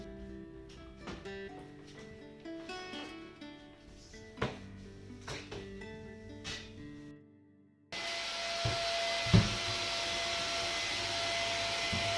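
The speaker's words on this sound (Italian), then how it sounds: "prima passo sopra di questi con l'aspirapolvere" A vacuum cleaner starts up partway through and runs with a loud, steady whine while cleaning atop wardrobes, after a stretch of quieter clattering and tonal background sounds.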